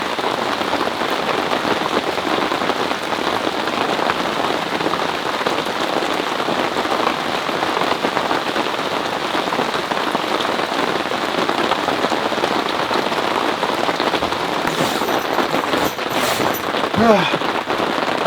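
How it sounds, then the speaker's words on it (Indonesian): Heavy rain pours steadily on a forest campsite during solo camping, a dense, continuous hiss and patter close by for the whole stretch, with a few sharper knocks near the end. "Hujannya makin menggila."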